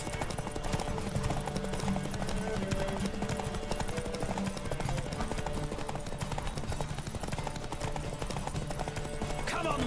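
Hooves of a galloping horse in The Witcher 3: Wild Hunt pound in a quick, steady clip-clop rhythm, continuous and fairly faint beneath game ambience.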